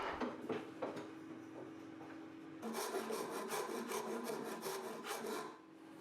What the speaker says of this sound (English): Then I can use files and rasps to clean it up.